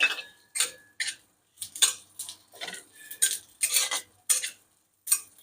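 Cumin and sesame seeds are dry-roasted in a pan while a spatula stirs them, giving regular scraping and clinking strokes about twice per second, close and crisp with short gaps between.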